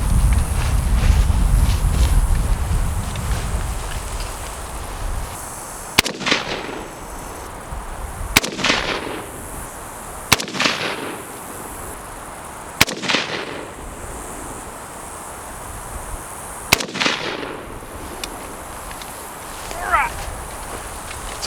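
Rifle equipped with a $200 ACOG scope fires at an outdoor range, five sharp, loud single shots spaced a few seconds apart, with someone talking before the shooting begins.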